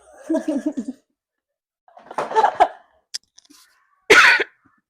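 Several coughs in separate bursts close to the microphone, a throaty fit at first, then a harsher hacking cough after short silences.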